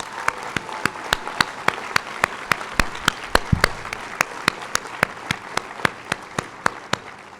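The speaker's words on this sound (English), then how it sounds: "Let's give them a richly deserved round of applause." Audience at the Fremont Academy of Engineering & Design 2016 commencement ceremony applauds the graduating class: a steady wash of clapping with a sharp, evenly spaced beat running through it, fairly close and continuous.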